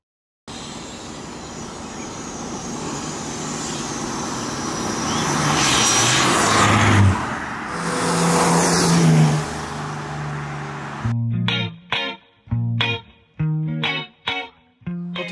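A BMW 330Cd E46 diesel with a stage 3 tune builds from a low rumble into a loud, rising acceleration roar, then a string of sharp, choppy bursts of engine noise in quick succession near the end.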